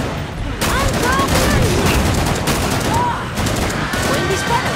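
Rapid gunfire in the video game Killing Floor 2, dense bursts of shots rattling continuously with brief gaps, loud and close, with in-game effects layered underneath.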